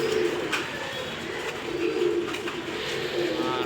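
Pigeons coo in soft, repeated low rolling calls, close by and fairly quiet, with light rustling in the background.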